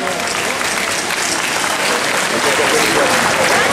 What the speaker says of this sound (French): Et on l'applaudit très fort d'ailleurs pour l'encourager.